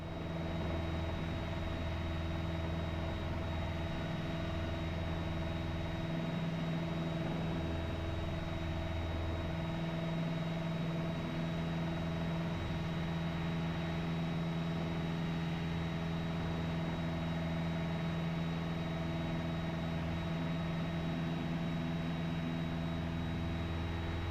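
A light aircraft engine drones steadily through an obstacle clearance takeoff climb out of Redhill, a constant, even cabin hum with a fixed tonal whine and no voices.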